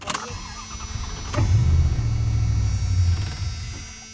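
A 1993–2002 Dodge Ram truck with a fuel problem cranks on a start attempt, a low, close starter rumble churning for about two seconds after a sharp click, then fading without catching.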